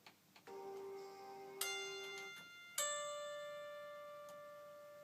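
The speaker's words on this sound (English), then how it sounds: "I double-tracked that with a auto harp, and that sounds like this" Autoharp double-tracking a glockenspiel, sparse bright struck notes and strums with long ringing decay, a few separate hits over about five seconds, quiet and alone.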